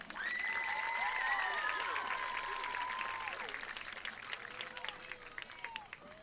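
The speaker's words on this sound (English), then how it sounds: "Please give the Martin County High School 2025 Homecoming Court a round of applause" Crowd applause at a Martin County High School homecoming game for the 2025 Homecoming Court, steady and broad at first, then thinning, with a PA voice and whistle-like tones over it.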